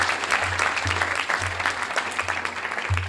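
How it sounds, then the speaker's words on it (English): Audience applause at a civic gathering honoring a mayor's leadership, a dense steady wash of clapping hands lasting the full stretch, with a low hum underneath. "Let's give him another big round of applause for his leadership."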